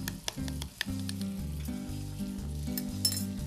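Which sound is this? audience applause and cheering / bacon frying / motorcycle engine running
bacon frying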